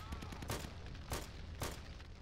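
Sniper gunfire in the game Return to Castle Wolfenstein: three sharp, distant shots spaced roughly half a second apart, fairly quiet over low background rumble.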